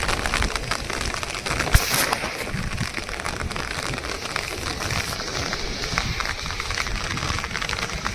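Steady heavy monsoon rain patters and crackles on a surface by a river, a dense continuous wash of drops with one sharper knock.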